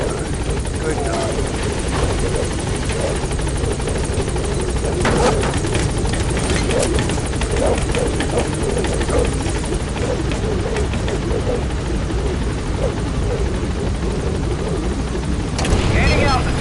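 A helicopter in the video game Metal Gear Solid 5 thunders loud and close throughout, its steady rotor roar continuous with brief crackling bursts and radio voices speaking over it.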